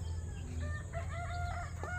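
Chickens on a farm cluck and squawk close by in a short burst, over a low steady background hum.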